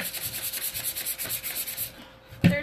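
Painted furniture is hand-sanded on a flat surface with 220-grit sandpaper, giving close, rhythmic back-and-forth rasping strokes. They fade out near the end and are followed by a single soft knock.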